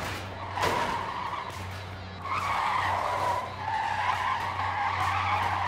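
Truck tires squeal in repeated screeching skids in the physics game Cluster Truck, loud and close, with sustained squeals over a low engine drone and brief pauses between slides.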